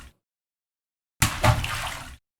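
A splash of water in a bathtub recorded as a fish jumping and landing for a video game: a brief sharp slap followed by a second of churning, gurgling water, close and isolated between silences.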